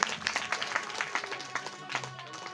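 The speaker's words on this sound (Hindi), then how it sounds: "ताली का स्वागत करते रहें" An audience at a Shrimad Devi Bhagavat Mahapuran katha gathering claps in a brief burst of scattered, fairly quick handclaps. The clapping sounds moderately near, with an announcer's voice faintly under it.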